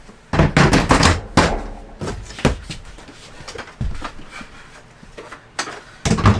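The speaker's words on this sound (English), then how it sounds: "Let's put the doors back on." Plastic doors are fitted back onto an Iceco VL75ProD 12V portable fridge, giving a string of loud, close knocks, clicks and snaps in uneven bursts with quieter gaps between.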